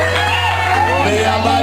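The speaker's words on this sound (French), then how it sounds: "Poussez des cris de joie" A wedding crowd shouts and whoops with joy, raising loud overlapping cries and cheers that fill the short stretch at close range.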